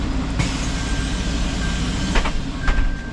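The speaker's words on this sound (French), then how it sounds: "avec le tram, la 1, la 2, la 3, on traverse pratiquement la ville" A tram runs through the centre of Nice, heard from the driver's cab as a loud, steady rumble with a thin electric whine and a few brief clanks and rattles over the rails.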